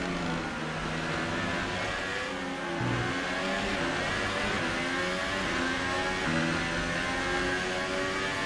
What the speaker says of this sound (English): I love how the cars sound on the other side of the wall when they pass.